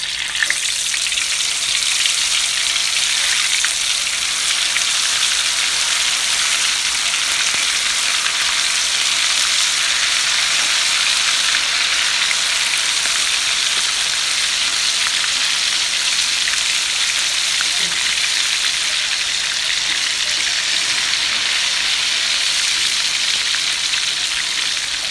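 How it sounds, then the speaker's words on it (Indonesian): Sliced tempeh fries in hot oil in a pan, giving a loud, steady, crackling sizzle that continues without a break and with no talking. "Aku lanjut mau goreng tempe."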